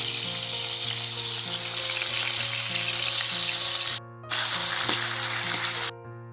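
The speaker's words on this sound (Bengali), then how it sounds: "এই চার পিস মাছ ভাজা করে বেগুন দিয়ে রান্না করব" Fish pieces fry in hot oil with a loud, continuous sizzle close by, broken by two brief drops in sound near the end.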